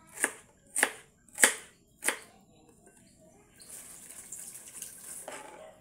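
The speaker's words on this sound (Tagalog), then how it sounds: "maghihiwa po tayo ngayon ng sibuyas, sili, tsaka kamatis" Onion, chili and tomato are chopped with four distinct knife strikes on a board, evenly spaced, followed by the faint rush of running water; no voices.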